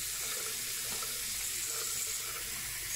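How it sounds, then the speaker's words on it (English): Tap water pours steadily into a small bottle, a continuous broadband rush of running water that holds at an even level throughout with no talking. "The simple task is just filling up the water in the small bottle below."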